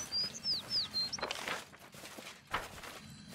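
A mysterious bird in the video game Pathfinder Kingmaker gives a few short, gliding chirps near the start, then falls silent under soft footstep-like shuffles and faint game ambience.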